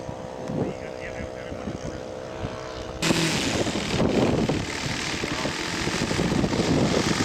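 Scale model Tiger Moth biplane with its engine and propeller droning steadily in flight outdoors on a windy day at a scale aircraft show, wind buffeting grows louder partway through.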